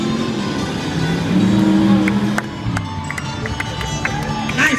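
Tough trucks at a county fair race over a steep down drop, their engines roaring and revving amid crowd noise, with sharp clanks and bangs of impacts near the end.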